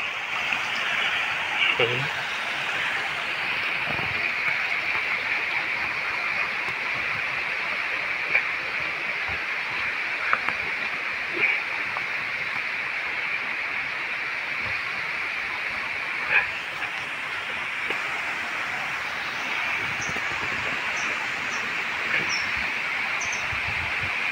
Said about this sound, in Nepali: सिरबिर सिरबिर चरीको आवाज अनि कल कल बग्ने खोलाको आवाज